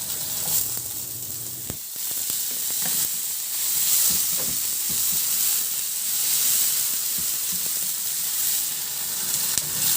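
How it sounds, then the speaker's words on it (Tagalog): Garlic and onion sauté in oil in a kawali (pan), giving a steady, close sizzle and hiss with occasional soft stirring clicks throughout, with no talking. "Igisa ko na rin yung bawang. Maglagay din ako ng sibuyas."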